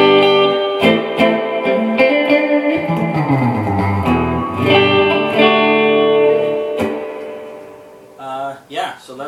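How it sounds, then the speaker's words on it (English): An electric guitar through a Peavey Classic 30 amp with the reverb turned all the way up rings out in loud, washy chords and lingering tails, with a brief burst of talk near the end. "Here's with the reverb all the way up"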